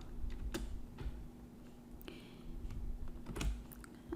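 Computer keyboard typing as C++ code is entered, a loose run of close, quiet key clicks with brief pauses and a few sharper taps, alone without talk over a faint steady hum.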